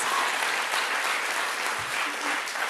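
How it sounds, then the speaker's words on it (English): Audience applause at an evening political conference for striking university lecturers and workers, a broad, even wash of many hands clapping throughout at steady loudness, with no voice on top. "Please give them a big round of applause"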